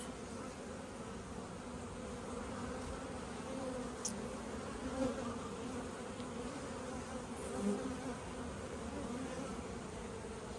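Honey bees buzz steadily around an open hive in a busy bee yard during colony splits, a continuous dense drone with a few louder passes as individual bees fly close by.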